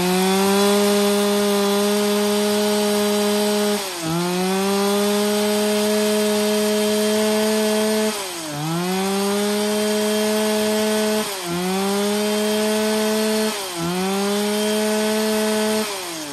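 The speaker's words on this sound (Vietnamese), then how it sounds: "xin phép giật test nổ con này cho các bác nghe qua tiếng máy" A STIHL chainsaw engine runs loud and steady at close range, its pitch briefly dipping and recovering about five times.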